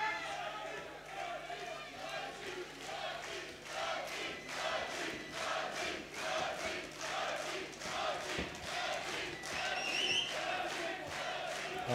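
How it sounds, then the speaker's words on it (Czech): A crowd roars and chants throughout a Papp vs. Kuča MMA fight, with rhythmic bursts of cheering driving one fighter forward, heard at a distance beneath continuous commentary. "publikum žene Papa dopředu."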